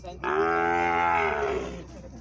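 A bull at a cattle fair in Cipó, Bahia gives a long, loud, close moo lasting well over a second, with steady crowd and outdoor noise underneath.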